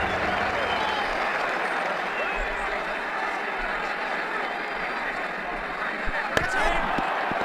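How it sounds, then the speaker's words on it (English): Steady crowd applause and cheering fill a virtual cricket stadium in the Ashes Cricket 2009 video game after a batsman's shot, holding a dense even roar throughout with a few sharp knocks near the end. "The crowd really enjoyed that one."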